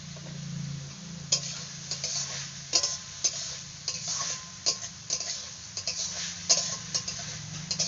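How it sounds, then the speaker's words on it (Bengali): Banana flower fries in a pan while a spatula stirs it, producing a steady low sizzle broken by repeated scraping and clicking strokes against the metal, close and fairly loud. "মোচাটাকে ভালো করে ভেজে নিচ্ছি"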